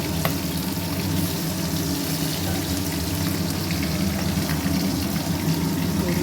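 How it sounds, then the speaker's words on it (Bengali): Boal fish fries in hot oil, a steady, close, continuous sizzle and crackle with no pauses and no voices over it. "হয়ে গেছে আমার মাছ ভাজাটা।"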